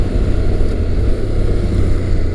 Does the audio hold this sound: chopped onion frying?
no